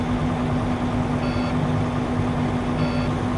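A truck engine running steadily at 1200 RPM during a daily trip inspection, a loud continuous low hum with a strong tonal drone and no talk.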